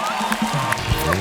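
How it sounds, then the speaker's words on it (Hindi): Studio audience on a TV show applauding and cheering as guests Kabir Bedi, Pooja Bedi and Alaya F come on stage, a steady wash of clapping with scattered whoops and a host's voice faintly mixed in. "तालियां जोरदार होनी चाहिए."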